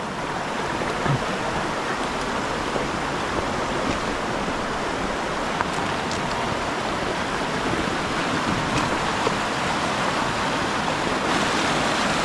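Floodwater rushes past after heavy rain, a steady, dense roar of flowing water filling the whole stretch without pause or voices.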